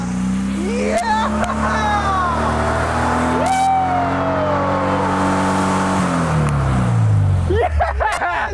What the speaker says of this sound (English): It's official. The MG does burnouts.